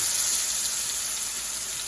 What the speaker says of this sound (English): And we are gonna let those sizzle, and the rock means sizzle.